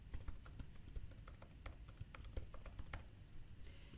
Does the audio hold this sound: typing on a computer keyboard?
yes